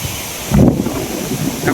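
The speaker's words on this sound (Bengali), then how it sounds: "বাতাসে মনে হয় যে গাছপালা উড়াইল বইরম একটা অবস্থা" Strong gusts of wind roar and buffet through trees during a sudden storm, with a loud surge just past the midpoint and a rumbling rush throughout.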